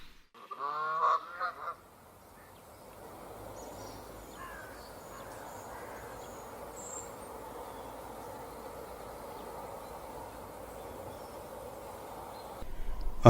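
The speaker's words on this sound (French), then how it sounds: "Un long cou noir et des joues blanches confèrent à la bernache du Canada une certaine élégance." A Canada goose gives a short burst of loud, nasal honks near the start, then falls quiet over a low steady outdoor background hum that continues to the end.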